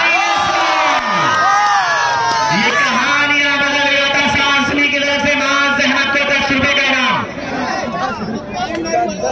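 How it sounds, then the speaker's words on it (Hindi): Spectators at an All India Volleyball Tournament match between Azamgarh and Meerut roar loudly, a crowd of cheering, whooping and shouting voices that swells close and sustained before easing slightly. "एकदम जोरदार तालियां बजा रहे"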